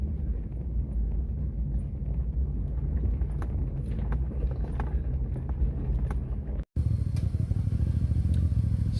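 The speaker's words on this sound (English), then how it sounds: "Driving through a riverbed." A Jeep LJ engine drones steadily while driving through a riverbed at night at an off-road ranch, loud and close with rumbling low end and wind buffeting, briefly cutting out near the end before resuming.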